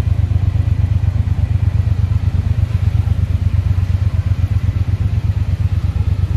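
A Triumph motorcycle engine runs close by on a street in Thailand, its deep, steady rumble throbbing loud and continuous throughout, with no voices over it.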